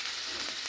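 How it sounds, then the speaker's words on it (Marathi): Onions sauté in a kadhai in hot oil left over from frying cashews, giving a steady, close, even sizzle with no pauses or voices. "कढईमध्ये ना कांदा परतून घेणार आहे."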